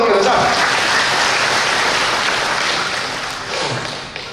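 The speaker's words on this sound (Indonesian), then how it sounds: "Tepuk tangan dulu untuk Elsa." A crowd claps together in sustained applause at a Buddhist Dhamma talk, fading slightly toward the end.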